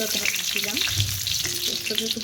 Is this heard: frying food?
yes